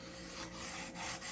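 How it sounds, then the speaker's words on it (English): An emery board rubbed against the wooden hull of a small model boat, a Norwegian sailing pram kit, making a close, steady dry rasping scrape that runs continuously with slight swells in strength. "I can take my missing sanding stick, in this case an emery cloth"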